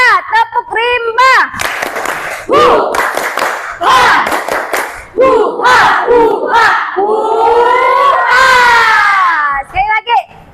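A class of junior high school students performing the tepuk rimba clapping chant together: loud, close group shouting in rhythmic bursts with sharp claps between phrases, ending in a long sustained yell.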